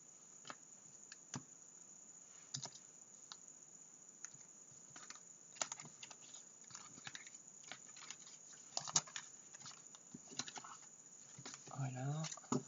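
Cards being shuffled by hand, a quiet run of soft rapid clicks and riffles in short bursts, with a denser flurry near the end; someone talks softly over it.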